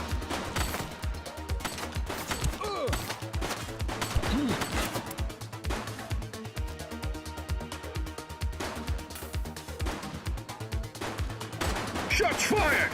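Rapid bursts of gunfire crackle in a police shootout in the video game The Precinct, shots coming in dense volleys and scattered single cracks over several seconds, loud and close with game music and effects underneath.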